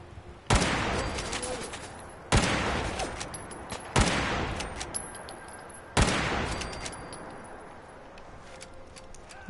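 Four loud, sharp rifle shots from Fallout 4, spaced about two seconds apart, each ringing out with a reverberant decay and a faint clinking tail.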